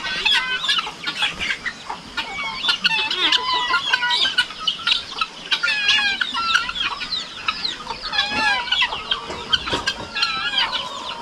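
Backyard chickens at a rural hut on a cold morning cluck continuously and close by, with overlapping chatter from several hens and scattered sharper calls.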